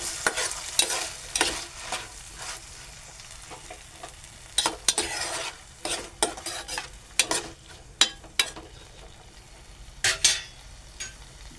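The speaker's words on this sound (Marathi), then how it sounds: "आपण आता परतून घेऊया" Vegetables sauté in a hot pan, with a soft continuous sizzle broken by repeated scraping and stirring strokes of a spoon, some bursts sharper and louder than others, close by.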